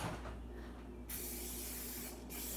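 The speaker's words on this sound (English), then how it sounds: "spray it on your hand and your arm, or just a thin layer and rub it in." Two bursts of cooking spray from an aerosol can hiss, the first a long steady spray and the second a shorter one, close by, over a low hum.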